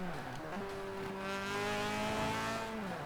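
A rear-wheel-drive Mazda RX7 drifts in the racing game Forza Horizon 4, its engine giving a sustained, rising then steady harmonic whine at close range, with a faint voice underneath.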